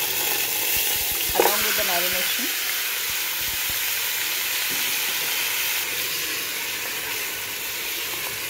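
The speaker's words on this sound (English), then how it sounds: "Cook this chilies for a minute or so and then quickly add this meat, mutton" Mutton cooks with chilies in a hot pan, a loud, close, continuous sizzle with a brief clatter of a utensil and a short spoken word near the start, then steady frying to the end.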